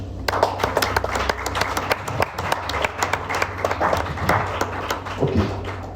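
A church congregation claps and applauds together, a dense run of sharp claps carrying on for several seconds with faint voices mixed in.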